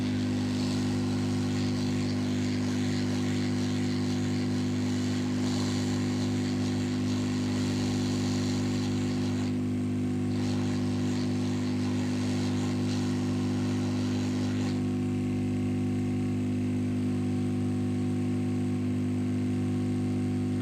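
An old electric blower machine runs with a loud, steady mechanical hum and whine that holds unchanged from start to finish, with no voices over it.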